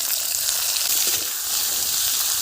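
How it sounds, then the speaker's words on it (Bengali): Potatoes frying in oil in a wok, a dense, close and steady sizzle with a constant hissing crackle throughout and no talking. "এবারে আমি আলুগুলোকে ভেজে নেব।"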